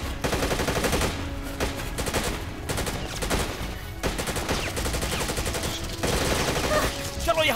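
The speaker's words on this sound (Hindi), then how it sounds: "गोली चलाओ!" Rapid gunfire at giant spiders in a horror movie, dense bursts of automatic shots crackling loudly and continuously, with brief pauses between volleys and shouting voices mixed in.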